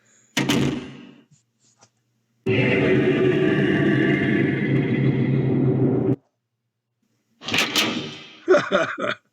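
A heavy Resident Evil-style door in the gzDoom engine opens with a loud creak, followed by a long grinding, rumbling slide lasting several seconds, then a final clunk and a few sharp rattling knocks, with no voices.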